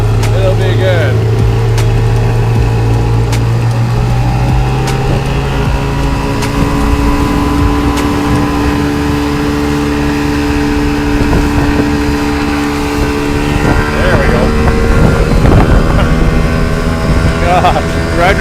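A boat's motor drones steadily and rises in pitch as it speeds up, with wind buffeting and people talking over the engine throughout.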